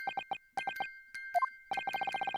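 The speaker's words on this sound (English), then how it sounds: "Just what relevance do you propose this woeful chiming has on this case?" A music box in The Great Ace Attorney plays a chiming pattern: bursts of quick repeated metallic tones with a sustained high ring, a short pause, two lower notes, then a fast run of chimes, alone and fairly quiet.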